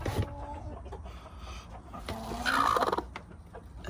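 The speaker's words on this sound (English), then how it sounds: "And we got a broody chicken." Chickens in a backyard pen cluck and squawk close by, with bursts of calls, including a rising squawk midway, over quieter scratching and background rustle.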